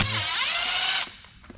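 Pneumatic air chisel driving out the sliding kingpin piece on a 1978-79 Ford Dana 60 front axle: a loud continuous buzzing rattle for about a second, then it cuts off, leaving faint shop noise.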